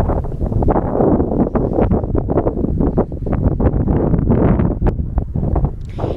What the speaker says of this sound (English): If you can hear the wind blowing